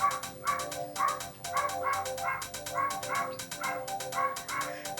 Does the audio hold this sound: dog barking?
yes